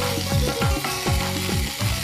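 Pre-fried potatoes tipped into a pan of hot oil crackle and sizzle loudly, with quick repeated scraping strokes of a spatula stirring them through, close up.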